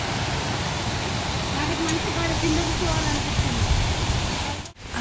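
Kuntala waterfall flows at full volume, a dense, steady roar of rushing water close by, with a brief voice rising faintly over it.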